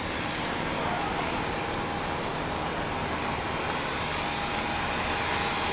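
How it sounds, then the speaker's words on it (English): F-15C fighter jets make low-level passes, a broad, steady roar of jet engines holding at even loudness throughout, with no voices. "That was a surprise, the F-15s."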